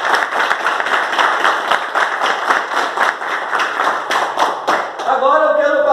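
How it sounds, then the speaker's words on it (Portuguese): An audience claps steadily in a dense, continuous round of applause, then a voice starts talking at the very end. "eu quero uma salva de palmas"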